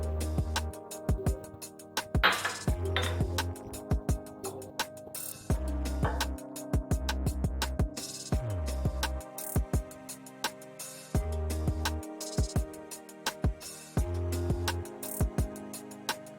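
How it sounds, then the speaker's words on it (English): Raw cleaned prawns minced with a knife on a cutting board, a long run of rapid, sharp chopping taps in irregular bursts with brief pauses, close and clear, no talk. "So what I do now is I'm gonna mince this one."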